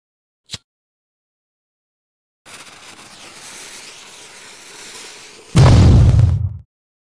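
A small single retro firecracker, a Polish petarda, with a sharp click, a few seconds of hissing fuse, then one loud close bang that quickly fades to silence.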